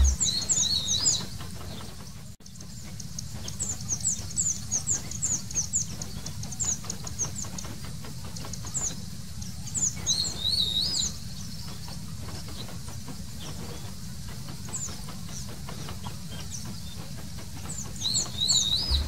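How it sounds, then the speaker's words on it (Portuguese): Various wild birds, including a hawk, cavy, bagageiro and house wren, in dry caatinga scrub with xique-xique cactus: repeated high chirps and song phrases sound continuously over a steady low rumbling background, with no speech. "várias aves cantavam"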